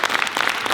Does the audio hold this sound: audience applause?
yes